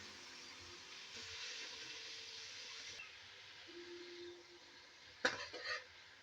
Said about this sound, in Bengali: তেলটা গরম হয়ে এসছে এর মধ্যে আমি কালো জিরে দিয়ে দিলাম দিয়ে ওর সাথে একটু জল দিয়ে দিচ্ছি